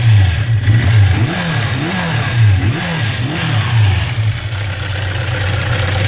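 A 1982 Suzuki GS650GZ motorcycle with an aftermarket air cleaner runs nearby, its engine blipped through several quick revs from idle and then settling back to a steady, loud idle. No one speaks.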